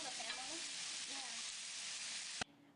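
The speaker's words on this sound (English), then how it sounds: "As you listen closely, you can hear the meat sizzling." Steady, continuous sizzling of beef browning in a hot pan on a stove, close and fairly loud, cutting off abruptly near the end.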